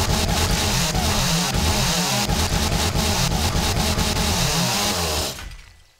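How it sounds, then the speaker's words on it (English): Chainsaw from the video game 7 Days to Die cutting wood, a loud, steady buzzing engine drone that pulses slightly as it bites, running continuously before cutting off and fading near the end. "Yeah, a chainsaw would be better on the wood."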